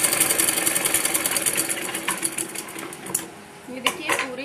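Sewing machine running a straight seam along a salwar panel, a fast rattling stitch that slows and stutters toward the end, with light clicks and a voice briefly audible.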